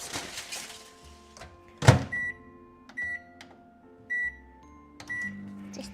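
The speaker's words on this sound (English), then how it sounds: "Pop that into the microwave for 20 seconds." Microwave oven heating food for a melting step, with a low steady hum and periodic high beeping tones, plus a sharp clatter or door knock partway through; quiet kitchen setting.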